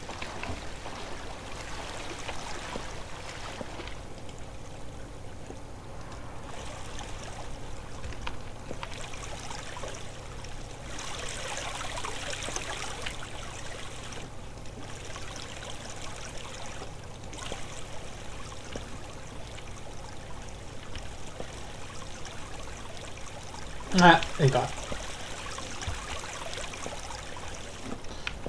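Flowing water in the video game Minetest makes a soft, steady trickling wash throughout, with a brief louder bump late on and a single spoken word.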